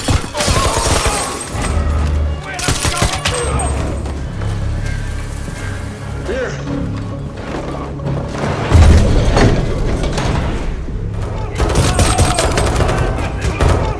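Rapid bursts of gunfire ring out in a tunnel shootout from an action film about a drug cartel, loud and close, with heavy booms and clattering impacts coming in waves among dramatic film sound.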